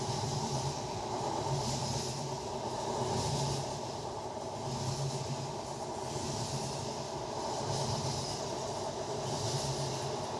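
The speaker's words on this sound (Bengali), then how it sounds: "পদ্মা সেতুতে উঠে ট্রেনের গতি অনেক বেড়ে গেল" A passenger train running fast across the Padma Bridge in winter, heard from inside a carriage as a loud continuous roar and rumble with a rhythmic swelling pulse every couple of seconds.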